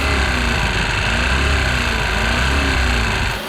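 A car engine drained of oil is held at full revs, giving a loud, unbroken mechanical drone with a harsh, buzzing, grinding edge. It runs steadily and alone, then drops slightly at the very end.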